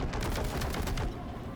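Twin-linked autocannon blasting in the Warhammer 40k Boltgun video game, a loud, dense burst of rapid heavy shots lasting about a second before tailing off into rumbling game noise.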